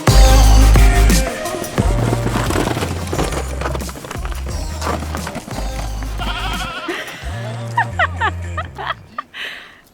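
Goats bleating on a narrow rural track in Yangshuo, China, with several short wavering calls over a loud, busy outdoor background and some clattering, fairly close.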